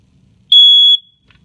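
A First Alert SA76B smoke alarm made in 2002 emits a single loud, piercing electronic beep lasting about half a second, sharp-edged against near silence.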